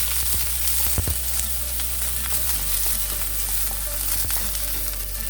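Onions sautéing in a pan for sinigang na watermelon, a steady close sizzle with a few sharp crackles and scraping stirs, no talk over it.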